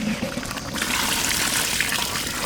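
Water is poured into a cooking pot for a mutton and elephant foot yam gravy, a steady splashing pour that holds at even loudness for a couple of seconds.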